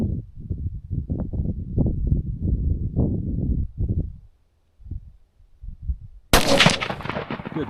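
Ruger Scout rifle with a 16-inch barrel fired at an outdoor range: a single sharp, loud gunshot cracks out near the end after a stretch of talk and a brief quiet pause.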